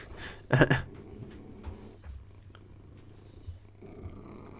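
A cat purrs close by, a low rumbling throb running under the whole stretch, with a brief louder burst of noise near the start and faint room sounds around it.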